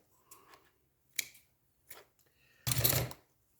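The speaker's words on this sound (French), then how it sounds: "Alors, je vais couper un morceau." Scissors cut a piece of material in a few short separate snips, close and quiet, ending in one longer, louder cut, with no talking.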